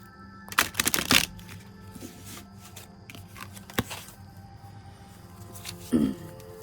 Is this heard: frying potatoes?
no